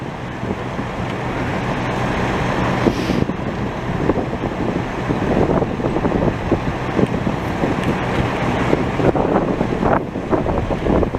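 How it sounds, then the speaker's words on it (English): Steady strong wind gusting outdoors on a city street, roaring and buffeting across the microphone without a break, with faint traffic rumble beneath and no talk. "Why is it always windy?"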